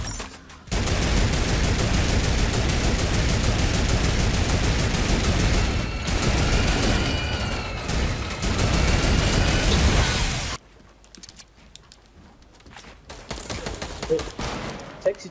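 Turret gunfire in the battle royale game Fortnite, a dense, loud sustained burst of rapid shots lasting about ten seconds, broken briefly mid-stream, then cutting off to quieter game ambience with scattered distant pops.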